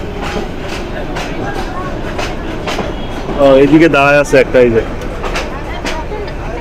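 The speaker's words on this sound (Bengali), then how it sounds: "স্টেশনে ঢুকলো ট্রেন" A Mohua commuter local train rolls into a station at low speed, its steady rumble swelling briefly with a louder burst of rail noise midway, while people talk nearby throughout.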